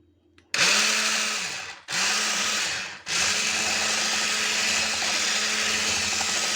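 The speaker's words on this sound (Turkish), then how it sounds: "Bunu da bir güzel çırpıyorum" An electric mixer whisks cream for a cake in three loud bursts, with a brief stop between each, then runs steadily and close by to the end.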